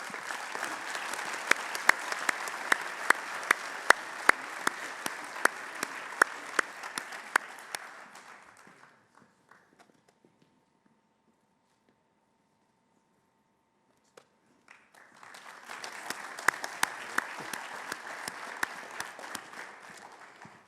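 Audience applause at a 2024 award ceremony for Roaring 10 honorees: a long burst of dense clapping, then a quiet gap with a faint steady tone, then a second full round of applause.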